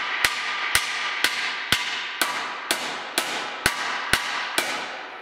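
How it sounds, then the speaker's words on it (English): Light, steady hammer taps on a dented metal tube, about ten sharp metallic strikes spaced roughly half a second apart, close and ringing, with no talking. "So let me put my earplugs in and then let's hammer."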